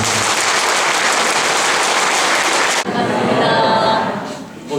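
Loud, dense applause from a packed Catholic church congregation welcoming a visiting bishop for a Lenten lecture, sustained for about three seconds before dropping away, with a voice starting to speak under the fading claps.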